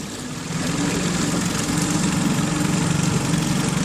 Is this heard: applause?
no